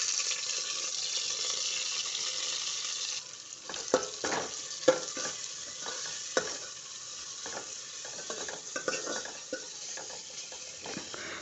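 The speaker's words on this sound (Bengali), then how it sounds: "তেল গরম হয়ে গেছে পেঁয়াজ দিলে আর" Onion dropped into hot oil in a home kitchen: a steady, hissing sizzle at first, then softer frying broken by several sharp spoon scrapes and clinks against the pan.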